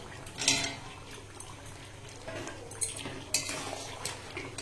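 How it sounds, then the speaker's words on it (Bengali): Fried potatoes are tipped into a pot of spiced chicken curry, with close metallic clinks and scrapes of a spoon against the pot and a few sharper knocks. "এখন এর মধ্যে ভাজা আলুগুলো দিয়ে দেবো।"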